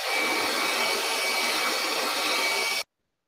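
A vacuum cleaner runs loud and steady with a constant whine, then cuts off abruptly near the end, with no talk over it.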